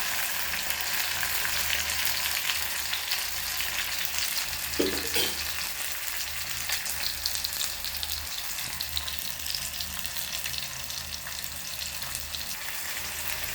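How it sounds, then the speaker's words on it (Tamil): Tomatoes, onion and garlic sauté in a pan for a fish curry, giving a steady, close sizzle throughout with a brief scrape of stirring near the middle and no talk. "தக்காளியை வச்சுட்டு நல்லா வதக்குவோம்"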